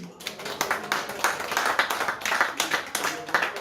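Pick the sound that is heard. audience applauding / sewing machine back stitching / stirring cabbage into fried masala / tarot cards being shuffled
audience applauding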